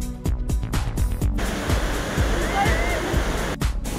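Abbey Falls waterfall in Coorg during light rain roars close and loud as a dense, continuous rush of water, with some brief rhythmic thumps and rustling near the start.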